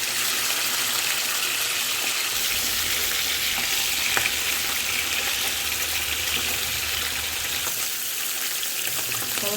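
Fish fries in hot oil seasoned with salt, giving a loud, dense, steady sizzle and crackle that fills the whole stretch with no voices.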